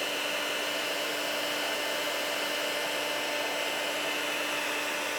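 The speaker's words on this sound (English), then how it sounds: "This heat tool is very hot, so you don't want to burn your fingers as well." A heat embossing tool blows with a constant airy whir and a faint steady hum, unchanging throughout.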